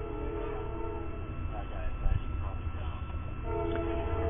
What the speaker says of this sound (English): along with the train going by while I'm trying to do commentary